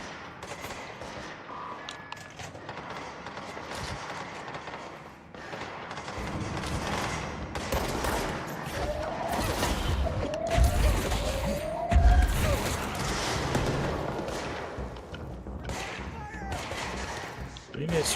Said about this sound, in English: Love sounds of distant gunshots